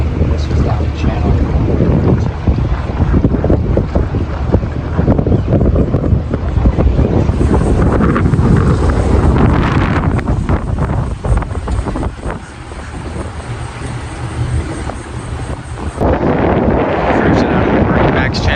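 A boat cruises out of a marina channel, its engine droning steadily beneath loud wind buffeting the microphone, with voices talking over the constant rumble.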